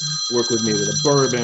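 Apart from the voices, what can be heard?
phone ringing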